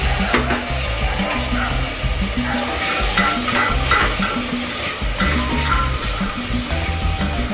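Carrots tipped into a hot pan already holding potatoes for Indo-Chinese hot sweet and sour vegetables; a steady, close sizzle with stirring runs throughout over a low tonal background.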